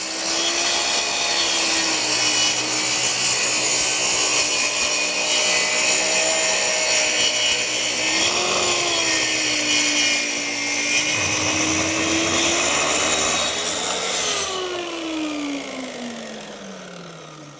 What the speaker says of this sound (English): Adjust the saw's variable speed control to full power and rip the board edge